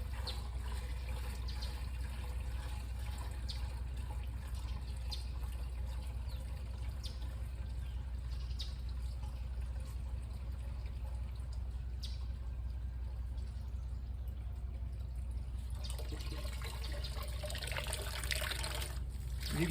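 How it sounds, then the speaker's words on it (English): Steady trickling and dribbling of excess water draining out of a pepper grow bag, a continuous wet splatter close by with no talking. "You can see how much water is draining out of this now."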